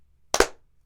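A single sharp hand clap struck to sync a recording, a brief loud double-edged slap followed by silence.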